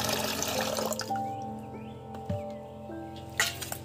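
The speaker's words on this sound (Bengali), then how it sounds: "বন্ধুরা চিকেনগুলো ধুয়ে নেব ভালো করে" Tap water runs and splashes in a kitchen while chicken pieces are washed for an oil-free chicken curry, a moderate hiss with clinks and a few louder splashes, close by, alongside a faint tonal hum.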